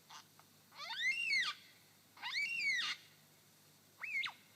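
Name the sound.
lyrebird mimicking a yellow-tailed black cockatoo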